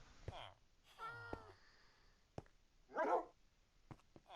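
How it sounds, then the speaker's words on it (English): A Minecraft cat meows in the game, with a drawn-out tonal cry followed by a brighter, noisier burst. Sharp clicks punctuate it and occasional game sounds appear between the calls. "I hear a cat."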